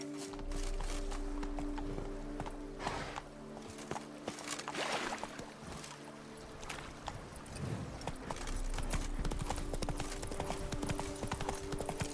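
The horse Roach trotting in The Witcher 3: Wild Hunt, Blood and Wine, a steady close clip-clop of hooves on the ground with ambient countryside sound.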